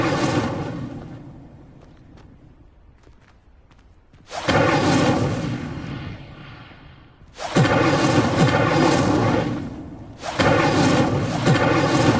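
Fire spell cast repeatedly in Hogwarts Legacy, each casting a loud rushing whoosh and roar of flame that swells and holds for a few seconds, three bursts separated by quieter fading gaps.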